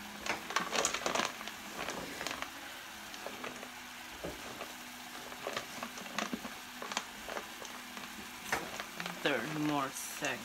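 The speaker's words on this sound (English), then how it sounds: "now that it's boiling, we just gotta let it boil for 1 minute" Custard for a Boston cream pie bubbles and spits in a pot on the stove, a soft continuous sizzle broken by clicks of stirring, with brief speech over it.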